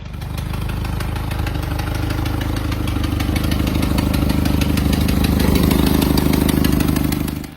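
A 1941 Willys MB jeep, freshly restored frame-off, idles steadily at close range, its engine a low even rumble with a faint rhythmic knock that swells slightly toward the end, with no voices.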